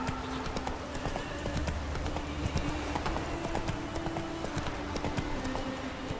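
Roach, a horse in The Witcher 3, trots with hooves clip-clopping in a quick, steady rhythm. The sound is close and continuous, with faint background ambience.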